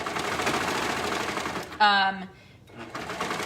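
A sewing machine stitches fabric gathers flat in a short burst of rapid mechanical whirring that starts, runs briefly and stops, with a quieter stretch after it and a voice talking around the stitching.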